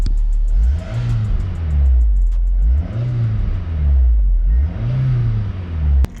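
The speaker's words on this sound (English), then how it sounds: "Let's give it some gas." A car engine revs three times after a K&N air filter install, each rev rising and falling in pitch from a loud idle, close by with no talk.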